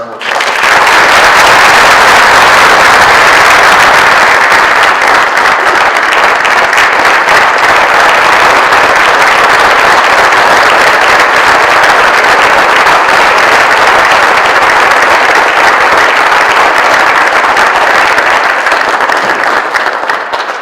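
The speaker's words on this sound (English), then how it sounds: "join me in a round of applause for all these remarkable people" A large audience applauds award winners at a county youth awards ceremony, loud, dense and sustained clapping that holds steady for about twenty seconds without talk.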